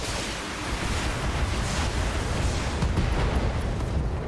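Mech weapons fire in the Battletech video game, a loud sustained roaring rush of blasts and rumbling impacts that blend into a continuous wash of noise, with no voices heard.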